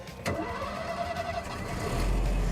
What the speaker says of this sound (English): So you start the car using the shifter.